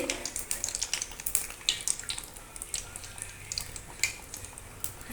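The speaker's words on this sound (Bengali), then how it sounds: "এই সময় চপ ভাজার সময় ফ্লেমটা একটু হাই রাখতে হবে" Potato chops deep-fry in hot oil over a high flame, giving a steady crackle of sharp pops and sizzling bursts with no talking.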